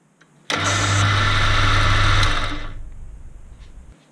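A lathe spins at high RPM while cutting a thread on a gear cutter arbor, giving a steady, loud whirring machine hum that starts abruptly, holds for about two seconds and then winds down quietly.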